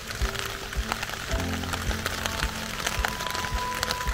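Steady rain patters on a tarp shelter during a minimal overnight camp, a dense hiss of drops with scattered louder taps close overhead, continuous throughout.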